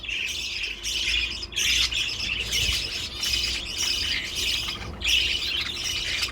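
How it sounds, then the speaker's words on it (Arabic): Chickens squawk loudly and close by in a run of repeated harsh bursts, with brief gaps between calls and no talking. "أنا أكره مالي صوت الفراخ إذا جيت تسجل ولا شيء قاموا يصايحون زي كذا"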